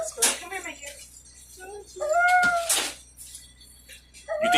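A groggy cat recovering after spay/neuter surgery gives several drawn-out meows and yowls at close range, with people talking quietly in between.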